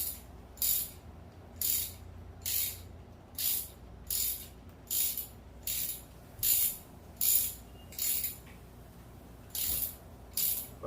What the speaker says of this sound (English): By just moving up and down a little slightly bit with the wrench, you can kind of get a better turn out of it.